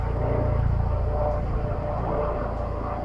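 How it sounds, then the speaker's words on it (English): A helicopter hovers overhead in Shillong, its engine making a steady low droning rumble throughout, moderately loud and unchanging, with no voices. "we can see a helicopter hovering over us"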